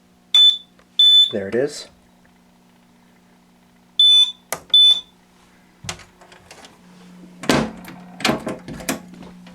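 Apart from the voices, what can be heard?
fire alarm panel battery trouble signal beeping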